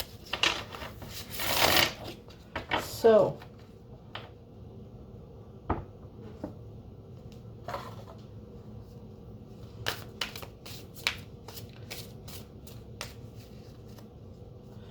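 Cards are riffled and shuffled in a few crisp bursts, followed by scattered soft taps and clicks; a brief spoken word is heard.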